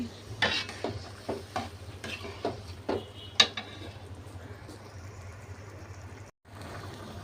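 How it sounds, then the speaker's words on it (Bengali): Chili, turmeric and cumin masala and dal fried together in a pot for rohu fish-head muri ghonto: rhythmic spoon scrapes and clinks over a low sizzle, with one louder knock and a brief pause near the end. "এই তো মশলাটা কষিয়ে নিচ্ছি"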